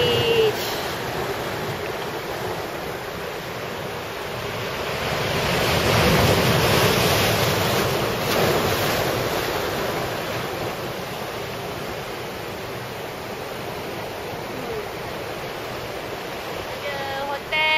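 Strong ocean waves roll and crash continuously onto Haeundae Beach in Busan, a loud, steady surf roar mixed with gusting wind buffeting the microphone, swelling midway through and easing again.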